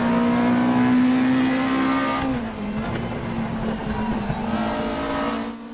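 A Volkswagen Scirocco Group 2 touring race car in the Raceroom racing game holds a loud, high-revving engine drone, then drops pitch sharply as it shifts and keeps pulling steadily to the end.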